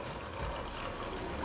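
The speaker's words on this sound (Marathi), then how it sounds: "याच्यात थोडंसं गरम पाणी घालते" Hot water poured into a pot of homemade tomato soup, a steady close splashing trickle of liquid, brief and unbroken, with no talk.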